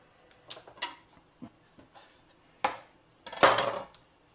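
Thai pork pieces being pushed onto 9-inch skewers, three or four at a time: a few soft clicks and taps, then one clear clatter and a longer scraping rattle near the end, close by.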